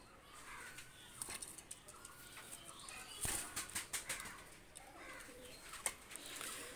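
Bursts of wings flapping as Pakistani fighter pigeons are released and take off, with soft cooing and faint outdoor background noise; no one speaks.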